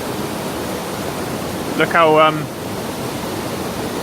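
Steady broadband rushing from a waterfall near Lake Bachalpsee above Grindelwald fills the scene at an even level, and a voice briefly speaks over it.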